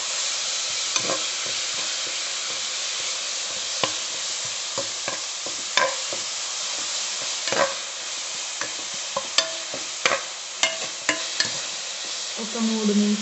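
Grated bottle gourd fries in a pan for kaddu kheer, a soft steady sizzle broken by repeated spatula scrapes and taps against the pan, fairly close, with no talking.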